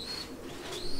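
Faint cooing from racing pigeons, a soft low hum running steadily through the second under faint chirps and general background noise, with no voices.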